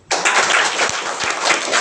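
Loud, dense burst of hand clapping from a group, starting abruptly and holding steady for nearly two seconds with a few low thumps mixed in, close and without talk.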